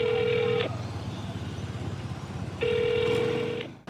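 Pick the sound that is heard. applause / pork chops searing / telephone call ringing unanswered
telephone call ringing unanswered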